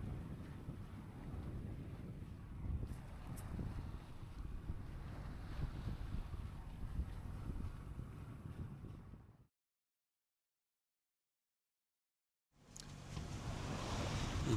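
A sailboat motors under engine through the night sea north of Gran Canaria, giving a steady rushing wash of wind, water and low engine rumble that cuts to silence for about three seconds, then returns.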